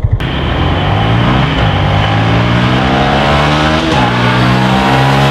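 A loud Yamaha MT-125 petrol motorcycle engine revs and climbs in pitch while accelerating, dropping briefly between gears before rising again, close and continuous.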